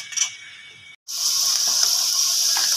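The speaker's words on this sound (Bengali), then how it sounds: "লাল শাকটা ভাজা হচ্ছে" Red amaranth greens hiss and sizzle steadily in a hot frying pan, a bright continuous frying crackle that follows a brief break, with no talking.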